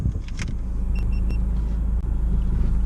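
A Renault Clio drives along with a steady low engine and road rumble heard from inside the cabin, plus a few faint clicks and brief beeps near the start.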